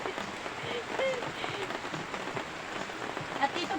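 Rain falls steadily in a rural garden setting, a continuous soft hiss of drops on surfaces with light patter throughout.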